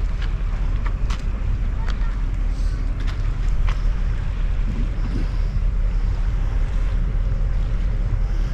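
Wind gusting steadily across a riverbank at Paull on the East Coast during a cod sea-fishing session, a constant low rumble with microphone buffeting throughout and faint background talk.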